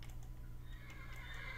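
Horse whinnying in the Minecraft Mo' Creatures mod, a faint, drawn-out neigh over a steady low hum, quiet and alone.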